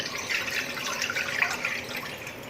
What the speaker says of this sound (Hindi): एक पैन लेंगे, इसमें ये आधा लीटर दूध डालेंगे